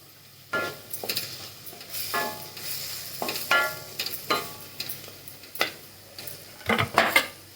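Tomatoes cooking in a pan for aloo methi, with a spoon scraping and stirring in bursts of clatter over a low sizzle, close and fairly quiet, no talk.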